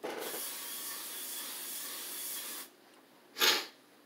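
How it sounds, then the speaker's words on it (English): Spray can shaken and sprayed onto a floor to reenact pepper spray, a long broad hiss lasting over two seconds, then a short sharp burst after a pause. "he would have just shook it up, sprayed it on the floor."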